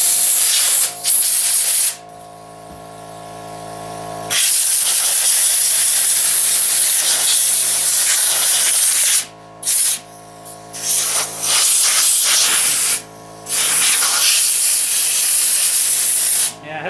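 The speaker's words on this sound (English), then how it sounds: "Got my air compressor outside, so hopefully it's not as loud." An air compressor running outdoors gives off a loud, steady broadband hiss that cuts out briefly several times, with short quiet gaps between long stretches of rushing air.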